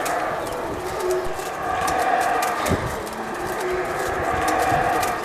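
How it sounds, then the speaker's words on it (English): Assorted jungle birds call and coo steadily over a dense, humid background hum at the Mayan ruins of Caracol, with overlapping chirps and whistles near and far. "you can hear the many different types of jungle birds that are here"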